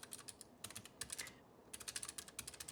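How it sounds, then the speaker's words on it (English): Fingers type on a computer keyboard up close, producing quick, soft, clicky keystrokes in uneven bursts with short pauses. "Let's just type something out."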